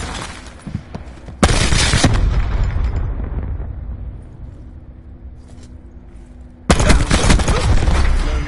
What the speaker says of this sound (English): Throwing lethal grenade.